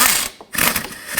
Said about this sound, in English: Let's snug it up. 13mm socket for this.